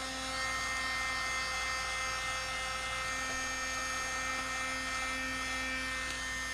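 A handheld dryer blows on a junk journal collage, a steady continuous whirring hum at close range that holds unchanged for several seconds with no speech.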